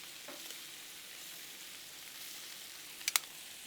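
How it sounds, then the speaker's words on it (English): Shrimp and sausage skewers sizzle on a hot griddle, a faint, steady hiss of frying running throughout, with a couple of sharper pops near the end. "love that sound of that sizzle first off"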